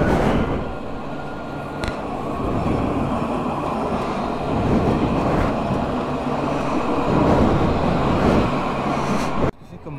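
A tram pulls into a stop at night in Tours, France, a steady loud rumble of wheels and motors rolling close by for several seconds before cutting off abruptly near the end, with faint voices in the background.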